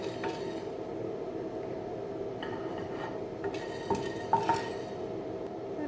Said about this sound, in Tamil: சட்டியில் உள்ள எண்ணெய் பதத்திலே இதை வறுத்து எடுத்துக்கலாம்.